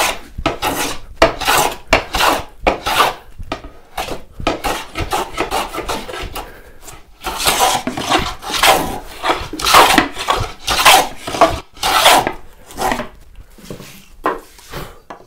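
Hand plane taking thin shavings off the bottom of a wooden box, heard up close as a long series of rapid, loud rasping strokes in an uneven rhythm, with no talk over them.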